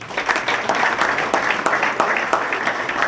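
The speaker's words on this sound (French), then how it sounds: "Nous applaudissons une fois de plus." Steady, dense applause from an audience at a Congolese gathering, fairly close and continuous throughout, with individual claps audible in the mass.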